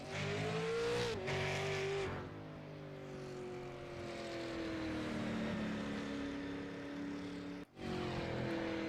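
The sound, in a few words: super late model race car on track during qualifying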